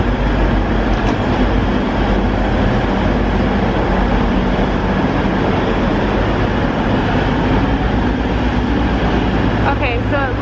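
Loud, constant rumbling roar of a train at a station in Germany, with clattering and rushing noise throughout, close by, with a brief squeal near the end.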